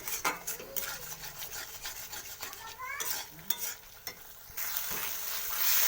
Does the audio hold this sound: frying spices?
yes